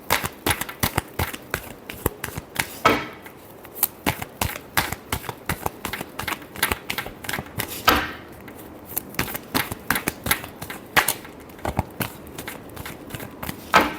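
Tarot cards are shuffled by hand in quick, uneven bursts of crisp flicks and slaps, close up, with short pauses between rounds.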